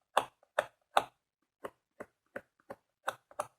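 Sheets of paper bonded with layers of hardened glue are flexed and tapped, giving sharp, dry clicking taps in an irregular sequence, close and distinct against near silence.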